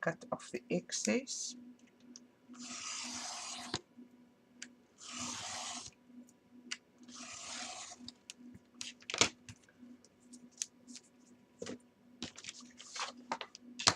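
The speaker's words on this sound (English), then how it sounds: "I use a cutting knife and my Tim Holtz scissor. So what I'm going to do is cut off the excess." Tim Holtz scissors trim excess paper, producing sharp, close snips and clicks scattered across the clip, with a few separate bursts of softer rustling or sliding in between and no talking.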